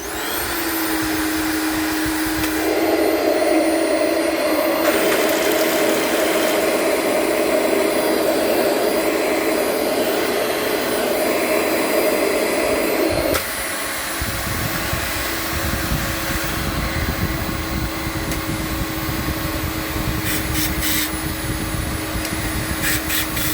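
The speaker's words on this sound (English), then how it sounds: "I'm going to show you all what it sounds like" Refurbished Dyson DC18 vacuum cleaner running loud and close with a steady whining roar. The pitch and tone shift a few times as the airflow changes, and the motor drops to a lower, rougher hum partway through.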